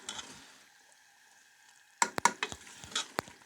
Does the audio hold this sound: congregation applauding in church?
no